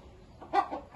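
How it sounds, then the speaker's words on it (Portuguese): A single short chicken cluck, fairly close and clear, rising out of a quiet background. "Aí tá a galinha estrela da cocheira do Estúdio Botinha"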